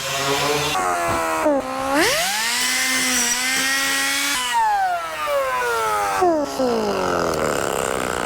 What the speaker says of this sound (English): I like to get a grinder and I'll grind it down a little bit